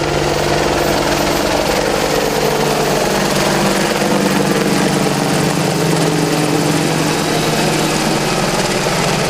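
Military attack helicopter with twin GE701 engines of 1,890 horsepower each, armed with a 30mm chain gun, heard as a loud, steady turbine whine and rotor roar at an airshow departure, continuous and unbroken for the whole stretch.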